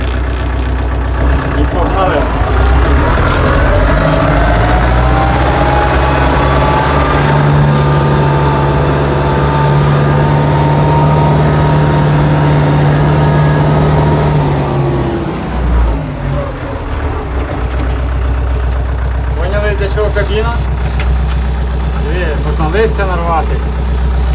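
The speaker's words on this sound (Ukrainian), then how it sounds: "як почув звук дізеля, зразу прибіг." A Lovol diesel tractor engine runs steadily nearby while working a field for onion and dill sowing, a low continuous rumble throughout with a brief dip in the middle.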